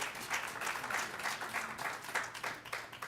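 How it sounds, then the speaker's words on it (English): A conference breakfast audience gives a round of applause for sponsor AARP, sounding steady, fairly faint clapping from a room of many hands, heard from a distance. "let's give AARP a hand for their support"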